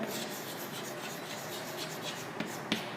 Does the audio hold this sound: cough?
no